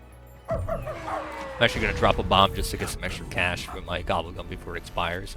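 Dog barking from the Dead Ops Arcade 4 video game: a few short yips and barks under steady, close commentary that runs through the whole stretch.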